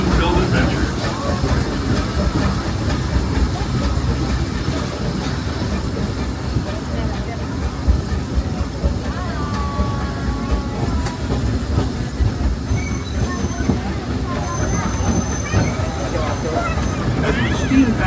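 A Disneyland Railroad steam train rumbles steadily around Disneyland Park with rhythmic clatter of wheels on track, while a voice talks over the running noise throughout.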